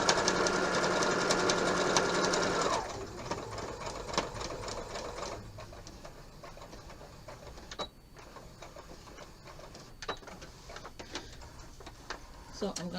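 Sewing machine back stitching across a fabric coaster, loud steady whirring at first, then dropping to a quieter, lighter run with scattered clicks and small bumps.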